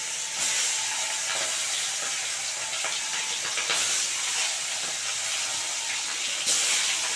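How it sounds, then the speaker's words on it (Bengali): Parshe fish with roe frying in hot white oil, a steady loud hissing sizzle with crackling bursts running throughout, no talking. "চারটে করে ভেজে নেবো, বুঝলে বন্ধুরা।"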